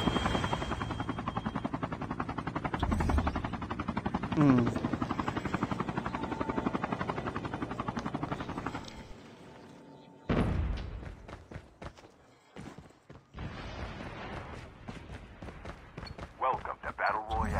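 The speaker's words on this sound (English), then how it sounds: "Using chopper." Helicopter in the Call of Duty Mobile battle royale game, a rapid thudding rotor beat that runs steadily, cuts out briefly, then returns with thumps and game sounds, with a short spoken word among it.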